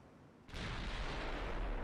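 A big naval gun fires a shell in Ultimate Admiral Dreadnoughts, an 18.9-inch German battleship gun. A single sharp boom opens it and then rolls on as a long, dense rumble.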